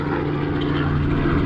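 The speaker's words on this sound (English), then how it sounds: "Chopper coming through." A helicopter passes over a lake, its loud steady rotor and engine drone filling the moment without any voices.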